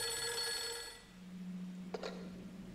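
Telephone ringing in the survival horror video game Project Zero 3, a faint electronic ring that fades before a brief click, heard alone with no talk.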